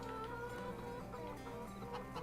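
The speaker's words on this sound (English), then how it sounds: "it's gonna be a while before we start seeing eggs from these chickens here" Chickens clucking on a farm in the video game Farming Simulator 22, soft repeated clucks over a busy background of layered ambient tones, fairly faint with no talk.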